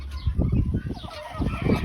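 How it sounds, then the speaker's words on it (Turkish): Turkeys gobble and cluck in short, rapid bursts close by during a courtship display, a busy, bubbling chorus of bird calls with no human voices. "Hindilerimiz gördüğünüz gibi kurlarını yapıyor."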